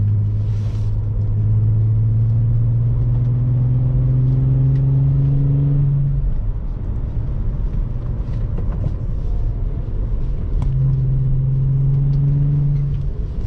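A VW Jetta wagon with the 12-valve VR6 engine drives along a road, heard from inside: a steady droning engine note that climbs in pitch, fades into rumbling road noise and then returns.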